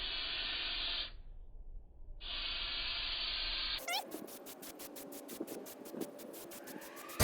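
Griot's Black Satin Tire Coating sprays onto tires in two close hissing bursts with a short gap between, followed by rapid scraping and rubbing sounds.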